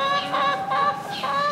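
Pet hen clucking indoors, a few close, loud rhythmic clucks in quick succession with no talking.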